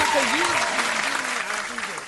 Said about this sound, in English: let's applaud for the whippet.